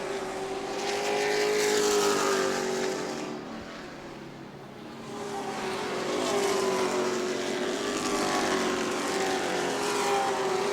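Race cars circle an oval track at a New Smyrna weekly racing event in the final laps, their engine whine rising and falling in long sweeps as they pass, sometimes loud and near, then fading into the distance.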